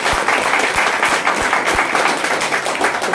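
Applause from a workshop audience, a steady dense wash of many hands clapping that carries evenly through the whole stretch with no talk over it.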